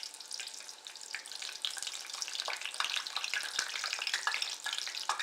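Food frying in hot grease at a medium-high setting, a steady close crackle and sizzle with scattered sharper pops running throughout, no voices.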